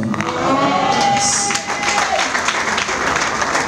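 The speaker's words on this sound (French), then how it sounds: "Vos applaudissements, mesdames et messieurs." Audience applause at a Congolese church gathering, a steady wash of clapping from a crowd with a voice cutting briefly through the noise, continuous and fairly loud.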